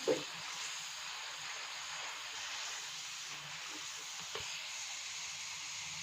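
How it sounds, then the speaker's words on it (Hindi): Spices sizzle and are stirred in a pan with a little added water while cooking an aloo tangri curry, a steady close hiss with occasional faint scrapes and one soft knock. "अब जो है वो हम अच्छे से मिक्सिंग करेंगे मसालों की।"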